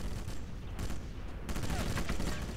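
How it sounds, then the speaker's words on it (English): Gunfire in the original Sniper Elite game comes as rapid clustered shots, a dense burst, a short pause, then another volley over a continuous battle rumble. "Oh, someone's shooting at us."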